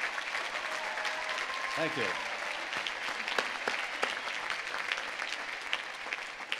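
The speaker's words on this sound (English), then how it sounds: "Let's give our newly commissioned officers a warm round of applause for their patriotism" A university commencement audience gives newly commissioned officers a long, loud round of applause, a dense unbroken clatter of many hands, with a voice briefly speaking over it.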